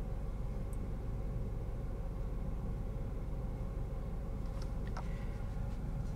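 Quiet cabin of a 2015 Buick Encore with leather interior and front-wheel drive while driving, a steady low road-and-engine rumble with a few faint light ticks and clicks.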